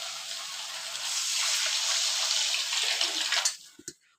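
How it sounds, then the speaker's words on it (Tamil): Water poured into a pot for vegetable semiya upma, a steady gushing pour that tapers off into a few final splashes and drips, with no talking. "இதுக்கு இதால் 5 டம்ளர் தண்ணி ஊற்றினா கரெக்டாக இருக்கும்"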